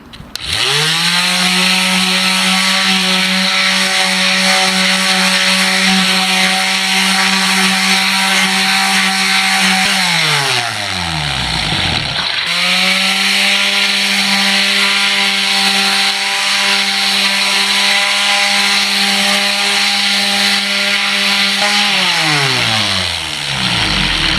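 Power sander smoothing a wooden cutting board with 150 grit sandpaper: a loud, steady motor whine runs for about ten seconds, spins down, then starts again for a second long run that also winds down at the end.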